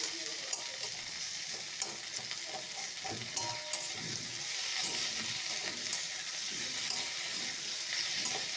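Potatoes and pointed gourd being stir-fried with onion and tomato in a pan for a fish curry, with a steady sizzle under repeated scraping and stirring strokes of a spatula, close and fairly quiet, no talking.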